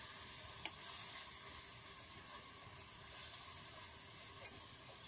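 Saag greens fry in oil with a soft, steady hissing sizzle, faint and continuous, broken by a couple of small clicks.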